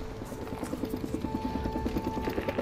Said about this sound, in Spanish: Otro helicóptero, qué pesadilla, tío, los helicópteros de enero.